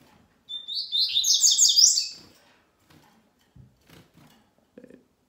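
A caged coleiro (Brasileirinho) songbird, a finch being prepared for a singing tournament, gives a loud, fast burst of bright chirping song lasting about two seconds. A few soft knocks and rustles follow.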